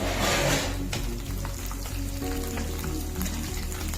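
Peeled large garlic cloves and curry leaves sautéing in oil in a pan for garlic kulambu, a steady close sizzle with a brief louder crackle at the start.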